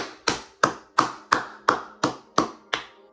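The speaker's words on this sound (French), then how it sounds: "Je l'applaudis même encore." A single person claps their hands eight times at an even, steady pace, each sharp clap close and isolated against silence.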